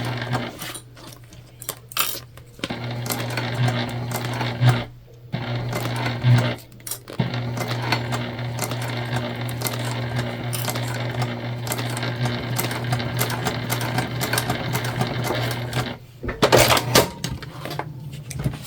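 A sewing machine stitches the side seam of a fabric candy bag in long steady bursts with brief pauses and a few clicks, loud and close.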